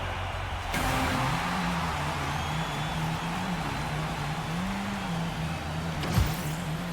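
A Junie car in Fortnite Rocket Racing drives with a steady engine drone, its pitch rising and falling gently, a short sharp sweep near the end, and a background bed of music or game noise.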